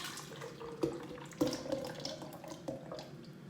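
Baghrir batter ingredients splash and pour into a blender jar, with soft liquid gurgles and a few sharper knocks and drips, close and fairly quiet.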